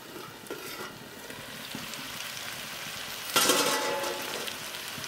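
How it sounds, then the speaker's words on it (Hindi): A potato, jackfruit and soybean curry cooking on a low flame, with a steady soft sizzle and a louder burst of stirring or frying midway, close and without talk. "5 मिनट और पका लें लो फ्लेम पे"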